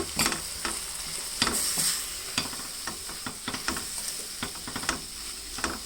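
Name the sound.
garlic and cumin frying in a pan for amaranth leaf fry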